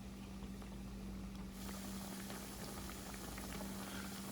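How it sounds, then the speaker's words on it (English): Liquid bubbling at a steady rolling boil in a pot on the stove, a dense continuous crackle of bursting bubbles with a low steady hum beneath, growing brighter and busier partway through. "we're going to let that cook and come to a boil"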